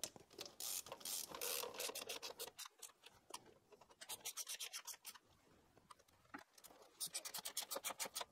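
Rapid ratchet clicks as rocker cover bolts are run down on a Renault Clio engine, close and crisp, in repeated bursts of fast pawl clicking separated by short pauses.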